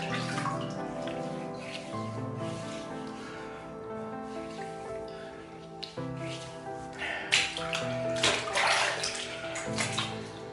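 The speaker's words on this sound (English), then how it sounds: "Okay, let's re-wet the face." Water splashes and trickles from a tap as the face is re-wetted during a wet shave, a steady running flow with brief louder splashing bursts near the end.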